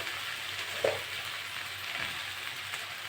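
Okra and potatoes frying in oil, a soft steady sizzle with a faint stir or scrape now and then, close and fairly quiet.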